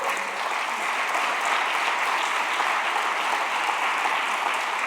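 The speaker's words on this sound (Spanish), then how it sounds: "Démosle un aplauso al Señor" A church congregation applauds during a sermon, a dense, loud and sustained wash of clapping from many hands that holds steady throughout.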